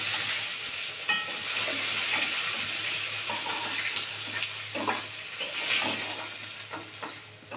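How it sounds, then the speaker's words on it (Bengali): A fish head fries in oil in a wok, giving a bright, steady sizzle with crackles and occasional stirring knocks, plus a watery hiss running underneath. "মাছের মাথার লেজা ভালো করে লাল করে কড়া করে ভাজা হয়ে গেলে তুলে নেবো"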